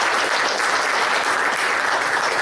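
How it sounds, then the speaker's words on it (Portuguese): A solemn session audience gives a full round of applause, dense steady clapping from many hands filling the room at an even level from start to finish. "Uma salva de palmas."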